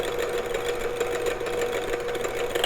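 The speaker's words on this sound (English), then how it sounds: "now I'm going to turn my mixer down, and I want to slowly add my buttermilk" Electric mixer beating a buttermilk custard pie filling at low speed, a steady continuous motor whir with a constant hum and no pauses.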